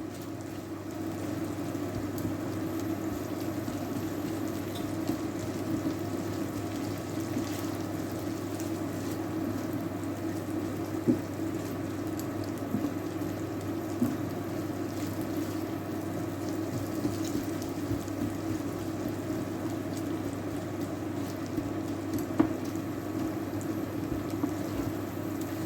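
Crumbled sausage fries in a pan for a homemade biscuits-and-gravy breakfast, giving a continuous, even sizzle with faint crackles that holds steady throughout, with no talking.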